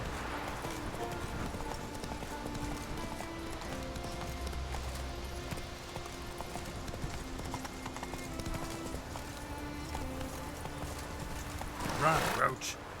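Hooves of the horse Roach clip-clop steadily at a gallop in The Witcher 3, a continuous rhythmic beat across the whole stretch, with a louder burst near the end.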